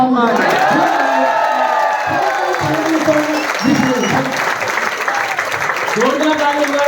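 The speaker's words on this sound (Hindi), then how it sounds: "जोरदार ताली बजनी चाहिए सारे क्राउड के लिए।" An audience at an experience-sharing event claps loudly, with some cheering and whoops mixed into the sustained applause, while a voice speaks over the crowd.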